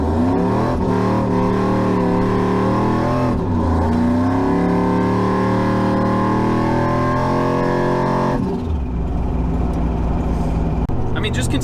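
Supercharged shop truck with a high-mileage original engine revving hard, rising and falling through repeated loud pulls with a whining harmonic climb, then dropping to a rough idle near the end.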